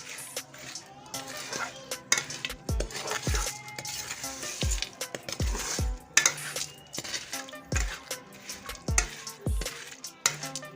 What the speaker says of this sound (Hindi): इसको मुसलसल हिलाते रहना है, बंद नहीं करना।